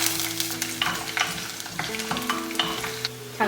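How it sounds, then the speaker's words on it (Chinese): Garlic and ginger stir-frying in a little oil in a heated clay pot for a fish dish, with a steady sizzle broken by repeated quick scraping stirs and clicks against the pot, close and fairly loud. "接着我们把砂锅加热，倒入少许油，把蒜粒跟姜粒放进来炒香。"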